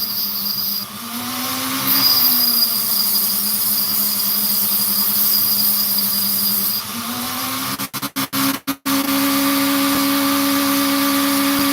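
A Dremel rotary tool runs close up with a steady high whine that dips and rises in pitch as the load changes, broken near the end by a few sharp clicks and dropouts before it resumes.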